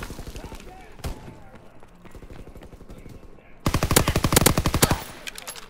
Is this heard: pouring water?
no